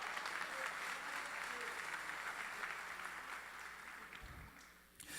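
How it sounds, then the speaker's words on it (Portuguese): A church congregation applauds steadily throughout, a dense and even wash of many hands clapping that holds its level for the whole span before thinning out right at the close. "Alguém pode aplaudir ao nome do Senhor?"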